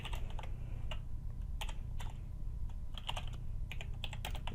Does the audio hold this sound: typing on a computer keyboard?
yes